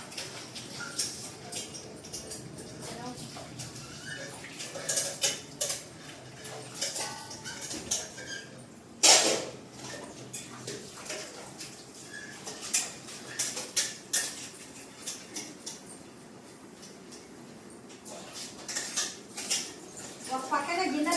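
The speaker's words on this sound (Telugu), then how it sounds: "ఒక పక్కన గిన్నెలు అయిపోతున్నాయి" Dishes are washed at home, with clinking pots and cutlery over ongoing background noise and one sharper clatter partway through.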